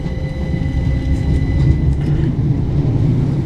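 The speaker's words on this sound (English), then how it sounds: "Train's up on the top there." Train running on an elevated line above near Willesden in London, a steady low rumble with faint high squeals, continuous and moderately loud with no talking.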